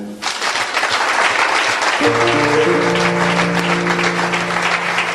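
A church congregation claps together in sustained, loud applause, and sustained musical tones or singing join the clapping after about two seconds.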